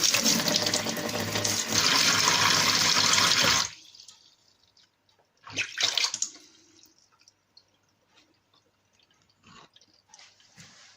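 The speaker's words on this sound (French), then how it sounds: "On va retester en remettant de l'eau." Water pours steadily and loudly into a sink for a few seconds, treated with a homemade ecological drain cleaner, then stops; the unclogged drain swallows it with a brief gurgling rush and a few faint drips.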